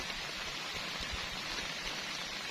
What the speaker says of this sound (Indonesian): Jadi aku makan ditemenin syahdunya air hujan di malam hari.